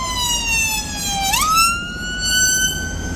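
An ambulance siren blares very loud and close on a city street, its wailing tone dropping steadily and then jumping abruptly higher as the vehicle passes right alongside.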